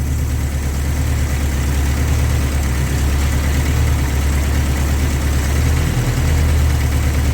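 A 1984 Toyota pickup engine idles steadily with a constant low rumble and even vibration, close and unbroken throughout, with no talk.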